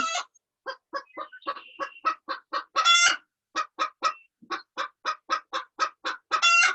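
Chickens cluck in a busy series of short, sharp calls, loud and close, with a steady stuttering rhythm and one longer squawk partway through.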